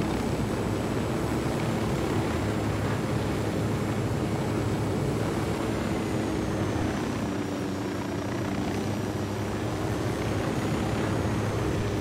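A steady video game helicopter rotor drone with whining engine tone runs continuously and loud, no voices over it.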